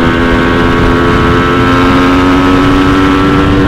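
Kawasaki Ninja RR motorcycle with a TM 32 carburetor on a slow test ride, a loud steady engine drone with strong tonal harmonics at an even, unchanging pace.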